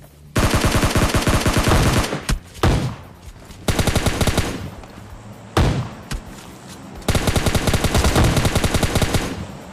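Video game automatic gunfire aimed at a teammate, with three long, loud, rapid bursts of close shooting separated by short pauses and echoing tails.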